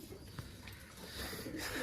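Low, soft cooing from a large black-faced teddy pigeon at a rooftop loft of breeding pairs, a faint murmur repeating over steady background noise.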